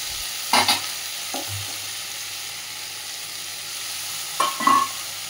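Ridge gourd, garlic and green chili fry in a pan and get stirred, with a low sizzle broken by a few loud scraping stirs near the start and again near the end.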